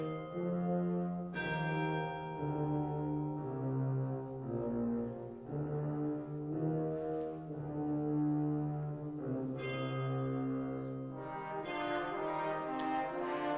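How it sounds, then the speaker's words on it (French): Deep orchestral bells toll alongside low brass such as tuba in a Berlioz orchestral piece, sustained resonant strokes sounding steadily over a dark, full ensemble. "avec les cloches."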